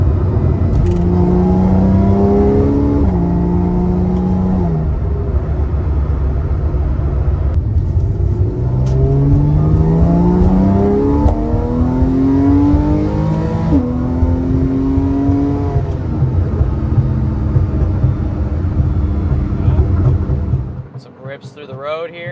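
A Porsche 911 Carrera 4S of the 997.2 generation accelerates hard through corners, its loud close engine note climbing and falling through repeated gear changes in a long rumbling sweep before cutting off abruptly at the end.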